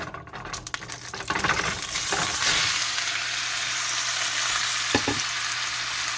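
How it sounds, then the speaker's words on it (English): Beef dropped into a hot pot on the stove, bursting into a loud steady sizzle after a few rattling stirs, with a couple of brief clinks of a utensil partway through. "I'm just going to be putting the beef in right here"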